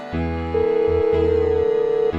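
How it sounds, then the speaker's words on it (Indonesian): A telephone ringback tone heard while placing a call: steady pulsed electronic tones repeating in an even rhythm, with no one talking over it. "Iya Farah, aku telepon dulu ya."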